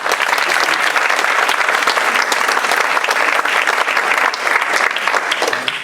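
Dense audience applause fills the hall, a steady wash of many hands clapping at full strength from start to finish with no voices standing out.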